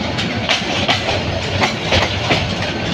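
A train pulls out of Dhaka Airport railway station with loud, rhythmic clickety-clack of wheels over rail joints, close and continuous.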